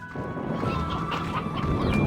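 Chickens clucking and squawking in the video game Slime Rancher 2, a busy cluster of overlapping calls, fairly loud and close, with no voices.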